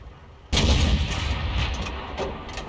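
A single loud, close cannon blast from a tank in a tank video game, the Kampfpanzer 50 t, bursting suddenly after a quiet moment and rolling on as a sustained roar.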